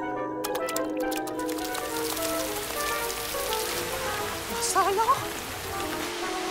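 Steady rain patters on surfaces in a cartoon garden scene, continuous and moderately loud, with a brief spoken voice and a few whistly musical tones over it.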